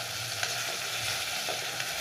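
Chopped tomatoes sautéing in a pan for a mackerel fish curry, a steady close sizzle with faint stirring scrapes and no voices.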